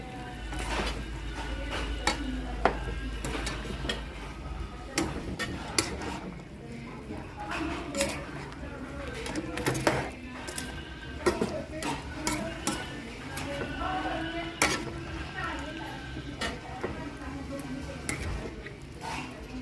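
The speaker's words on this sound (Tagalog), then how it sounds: "Haluin natin." Ginataang gulay vegetables with string beans get stirred in a pot, a string of close ticking utensil scrapes and clinks against the metal in an irregular rhythm, with faint speech-like sounds in the background.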